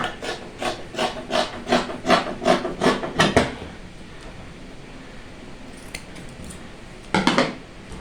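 Scissors cut through fabric for a girl's dress in a run of about nine quick, close snips, then a pause before a short final burst of cutting.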